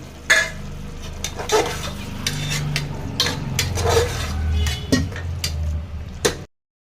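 Tomato paste cooking in a pan for hotel-style chicken biryani, with steady stirring and scraping of a utensil against the pan, occasional clinks and a soft sizzle underneath, close and moderately loud throughout.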